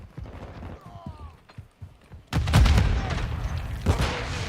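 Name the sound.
frag grenade explosion in Call of Duty Modern Warfare II video game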